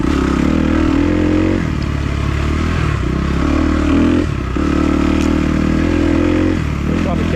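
A Kawasaki KX250F dirt bike rides a trail at Manchester OHV, its engine droning steadily close by with small shifts in revs, and a rider talks over it throughout.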